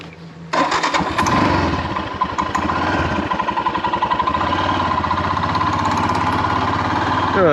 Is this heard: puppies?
no